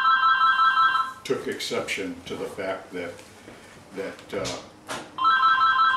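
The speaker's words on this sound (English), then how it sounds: "that's the phone" A telephone bell rings in a room in two short electronic trilling bursts, one at the start and one at the end, with someone talking in between.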